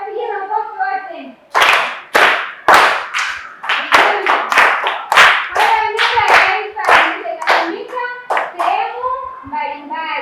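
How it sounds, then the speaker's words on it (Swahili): Primary schoolchildren in a classroom clap together in rhythmic bursts, loud and close, with children's voices chanting along between the claps. "Tuwapigie makofi wote."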